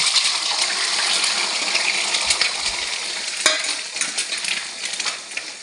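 Three beaten eggs are poured into hot salted oil in a wok for egg bhujia, setting off a loud, steady sizzle with a hissing, frying texture and scattered utensil clicks and scrapes as the cooking continues.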